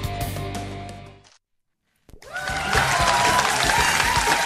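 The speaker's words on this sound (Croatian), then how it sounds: "Ja vijek čekam da ta publika počne pljeskat." Audience applause at a televised Croatian music show with klapa singers, breaking out after a brief silence and swelling into sustained, dense clapping.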